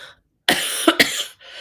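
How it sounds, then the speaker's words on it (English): A person coughs up close during a live tarot reading, a short loud burst of two or three rough hacks, with silence before and after. "Coughing, right?"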